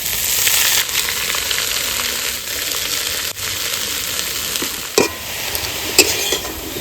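Leafy greens fry in hot mustard oil with nigella seeds, whole garlic and green chilies, giving a loud, steady sizzle broken by a few stirring scrapes and clinks.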